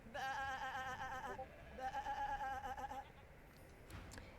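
A sheep in the video game Divinity: Original Sin 2 bleats twice in long, wavering, nasal calls, fairly close and clear over a faint game background.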